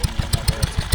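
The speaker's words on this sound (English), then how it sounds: "It's running a grinding wheel, so just keep an eye out on that." A 1945 Wolseley WD2 stationary engine driving a grinding wheel at a transport festival, a loud, close, steady chugging with regular rapid firing beats.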